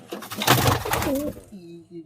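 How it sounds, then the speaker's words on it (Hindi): Fancy pigeons coo softly in low, throaty warbles beneath a brief burst of nearby rustling and handling noise. "ये भी फैंसी कबूतर ही है।"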